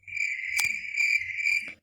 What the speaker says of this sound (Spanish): el de grillo